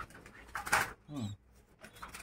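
Caged racing pigeons coo nearby, with a low throaty burble in the middle of the clip, surrounded by rustling and other faint bird sounds from the loft.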